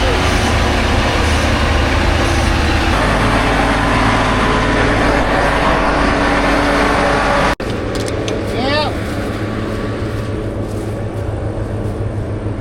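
A combine harvester runs after a clutch repair, giving a loud, steady engine roar and drone throughout, with a brief drop partway through before it continues. People speak over the machine.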